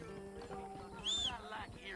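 A horse clip-clopping in Red Dead Redemption, with faint, quiet hoofbeats and a brief whinny-like sound under someone speaking Portuguese.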